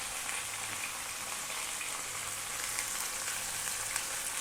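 Garlic and dried red chilies fry in a pan, giving a steady, dense crackling sizzle at close range with no talking.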